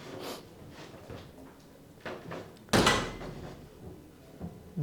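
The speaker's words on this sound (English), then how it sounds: "Close the door." A door closes in a classroom with a sharp, loud thud after some faint shuffling and movement sounds, followed by quieter room noise.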